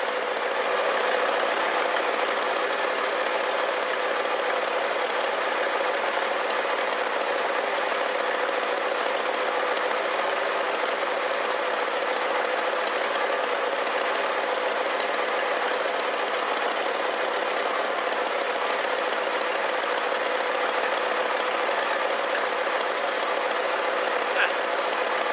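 A 1969 Lincoln Mark III's engine idles hot in park, giving a steady, even mechanical hum with faint ticking that holds unchanged and close by for the whole stretch.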